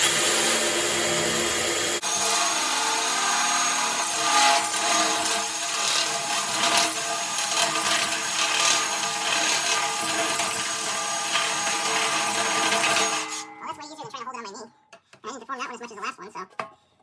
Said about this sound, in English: why would you clamp a cymbal on a vise and then drill huge holes in it